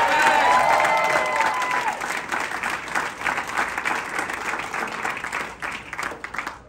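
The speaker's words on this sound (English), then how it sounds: "So a huge round of applause for Swag." An audience gives a big round of applause at a team introduction event, loud clapping with some crowd noise that swells at first and then slowly tapers off.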